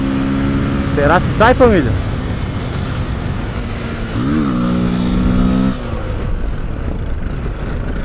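A motorcycle revs hard in third gear for a wheelie on a street, with rising and falling engine whines near and loud, and someone talks over it.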